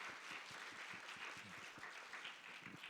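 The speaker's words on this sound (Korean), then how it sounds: "저희 박수 한번 보내드리면 감사할 것 같습니다" Congregation applauding at a Korean young adults' church worship service, steady dense clapping throughout, moderately distant and fairly quiet with no talk over it.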